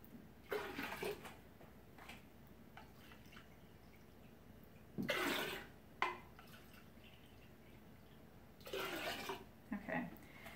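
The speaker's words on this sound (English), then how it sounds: "I'll be right back after I fill these up with water." Tap water running and splashing into jars while filling them with filtered reverse-osmosis water for home kombucha brewing, in three separate bursts of pouring with quiet pauses between, fairly close and moderately loud.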